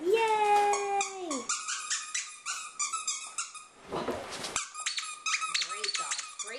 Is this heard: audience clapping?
no